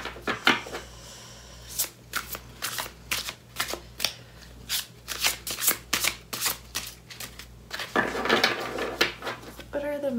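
A deck of tarot cards shuffled by hand in rapid riffling bursts and slaps, close and crisp, with a louder cascade near the end and a voice speaking softly between shuffles.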